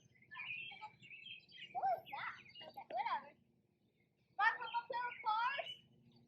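High chirps and squeaky calls from baby birds in a nest, coming in busy bursts with a short pause, fairly faint and close, alongside a low background hum.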